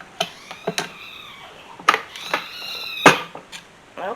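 Cats meowing indoors in a home kitchen, several short separate meows spaced across a few seconds, fairly close and clear with a little background clatter.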